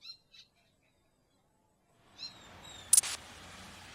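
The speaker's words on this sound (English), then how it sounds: "The birds outside" A few faint, brief bird chirps outdoors, two at the start and a couple more later, over a quiet background that rises into a soft hiss before a sharp click.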